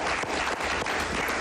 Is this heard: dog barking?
no